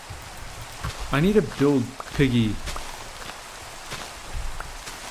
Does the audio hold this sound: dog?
no